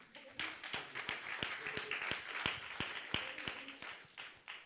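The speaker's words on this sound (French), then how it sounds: "mais on applaudit aussi Philippe." Applause at a French association's conference as staff members are thanked, a scattered, moderately close round of individual claps with overlapping voices.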